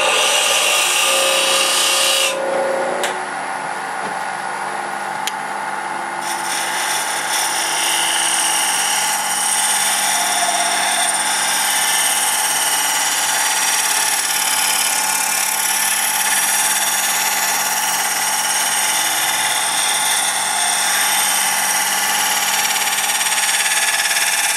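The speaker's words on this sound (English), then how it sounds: "I could just go to the grinder, which I'll do, and just turn up the burr on the other side real quick." A bench grinder whines loudly and continuously while a woodturning scraper is held against it to raise the burr, a close, steady high-pitched grinding hiss with a brief change in tone early on, no speech.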